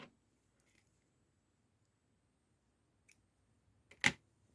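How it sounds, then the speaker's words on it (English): Scissors snip off a leftover yarn tail on a felted wool slipper, a single sharp close cut near the end after a couple of faint clicks in an otherwise quiet room. "Snip off that tail."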